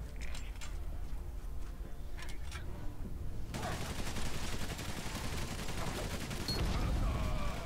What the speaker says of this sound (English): I hate these machine pistols.